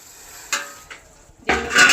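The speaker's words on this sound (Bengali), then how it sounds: "এবার ঢাকনাটা খুলে" A lid lifts off a cooking pan of simmering fish-roe curry: a few short metallic clinks and scrapes, the last one louder and followed by a brief rush of sizzling.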